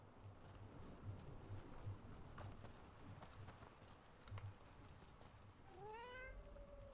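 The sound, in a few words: cat meowing in the video game Dragon Age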